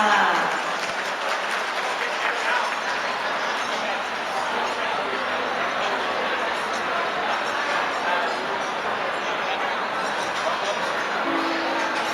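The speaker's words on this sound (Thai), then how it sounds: "และขอเสียงปรบมือต้อนรับท่านด้วยค่ะ" Steady, dense applause from a wedding audience welcoming a guest carries on without a break, close and lively, with faint voices mixed into the clapping.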